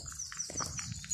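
A horse on a woodland walk makes a short burst of low snorting and shuffling sounds up close, with a faint high whine above.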